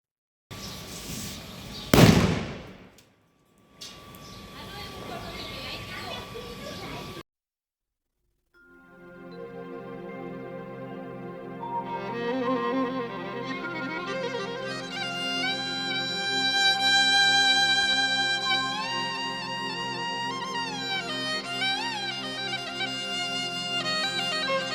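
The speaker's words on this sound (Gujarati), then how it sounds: "અત્યારે આપણે ફટાકડા ફોડવાનો સમય આવી ગયો" Diwali firecrackers and sky shot fireworks go off with a loud, close burst and crackle near the start, then fade out and give way to steady music.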